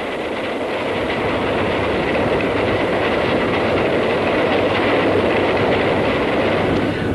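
A high-speed train from Newcastle arriving at York station in 1989 gives a steady, loud rumble with rhythmic clatter of wheels over rail joints, building slightly as it passes close by, with no voices.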